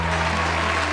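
Studio audience applause during a Spanish-language talk show broadcast from a professional studio in downtown McAllen, Texas: a dense, steady burst of clapping that fills the full second without voices over it.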